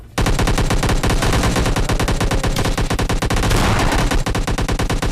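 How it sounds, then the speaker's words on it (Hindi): Rapid automatic gunfire in the mobile shooter PUBG Mobile Lite, loud, close bursts of dense evenly spaced shots that run almost without pause. "घूमते रोड के पास आते तभी साइड जाती गन शॉट की आवाज़"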